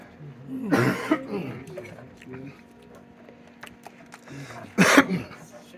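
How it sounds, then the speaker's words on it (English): Two harsh coughs, one early and one near the end, close to the microphone, with quiet background sounds in between. "Crap, I got a cough."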